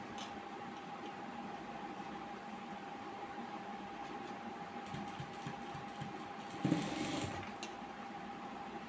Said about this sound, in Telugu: ఇప్పుడు దీన్ని డబల్ స్టిచ్ డబల్తో రోల్ చేసి కుట్టాలి